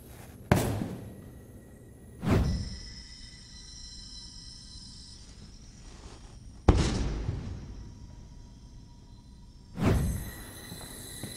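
A spinning gyroscope in a precession demonstration drops in free fall and strikes the ground; four sharp, separate thuds land seconds apart, each fading quickly over a quiet background.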